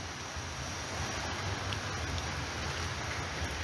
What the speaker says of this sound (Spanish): viene la lluvia, ¿cómo viene? Mire, viene bien recia